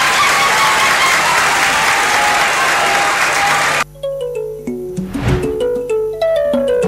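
A school quiz-show audience applauds in a steady, dense burst of clapping that stops abruptly partway through, followed by a short stretch of plucked musical tones.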